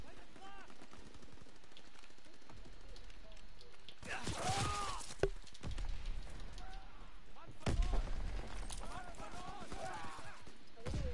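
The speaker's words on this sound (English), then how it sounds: "Anti-aircraft fire. We lost air superiority." Anti-aircraft gunfire in a Call of Duty game, bursts of rapid shots with loud blasts around the middle and later, over continuous background noise, with voices speaking throughout.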